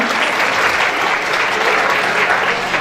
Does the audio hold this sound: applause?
yes